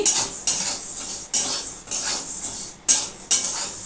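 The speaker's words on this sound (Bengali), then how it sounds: "দেখো আমি ডালটাকে একটু ভালো করে ভেজে নিচ্ছি" A metal spoon scrapes and clinks against a pan in repeated, uneven strokes while mung dal is stirred and fried, with a faint sizzle underneath.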